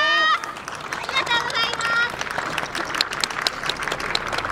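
An audience at a dance performance claps along in a steady rhythm, many hands together, with a brief musical or vocal phrase at the start.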